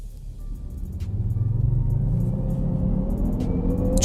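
Jaguar i-Pace electric car launching hard under launch control, a rising electric whine climbing steadily in pitch over a deep road rumble and wind noise, loud and close.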